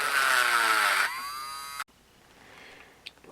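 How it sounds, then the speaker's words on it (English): A Dremel rotary tool cuts through metal on a Tecumseh HSSK50 engine part, a loud high-pitched grinding whine that drops in pitch and cuts off abruptly, followed by quiet with a faint clink. "Dremel time, I think. It seems to cut it rather well."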